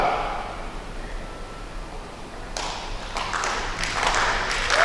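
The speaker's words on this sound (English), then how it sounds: "The audience starting to clap." Audience applause breaks out at a men's 10m air pistol final at an ISSF World Cup in New Delhi, starting after a quiet stretch and building into scattered, moderately loud clapping.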